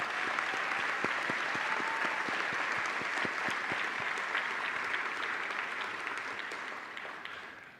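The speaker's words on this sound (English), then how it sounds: "a round of applause" An audience at a 2025 school graduation ceremony claps in a sustained, dense round of applause that holds steady and then begins to taper toward the end, with no speech.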